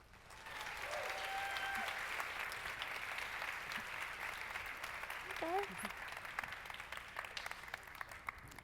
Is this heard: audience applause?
yes